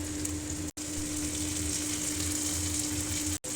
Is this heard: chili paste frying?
yes